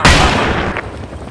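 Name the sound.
enemy helicopter approaching amid gunfire in video game Battlefield 2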